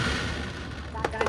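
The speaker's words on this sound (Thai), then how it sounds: "การจุดพลุ" Fireworks set off at a Thai temple festival at Wat Khao Din Tai, a brief burst of distant booms and pops in a continuous rumbling wash, with a voice talking over it.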